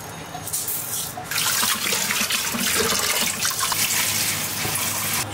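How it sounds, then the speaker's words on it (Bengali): Black gram lentils are washed under running water, a loud continuous splashing and rushing stream that swells after a second as the flow hits the grains and pot, close and steady with no talk. "মাসকালাই ডালটাকে ধুয়ে দেই"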